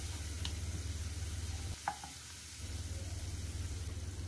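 Grated garlic sautéing in a pan while a quinoa salad is made, a steady close sizzle with a low hum beneath and a few light utensil clicks.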